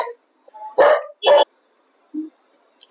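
A dog gives two loud, sharp barks close by, followed by a softer short yip, with quiet gaps in between.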